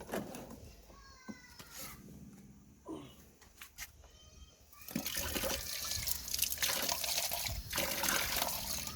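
Metal paint sprayer parts being cleaned in water: faint trickles and splashes at first, then a louder, sustained sloshing and dribbling of water over the second half.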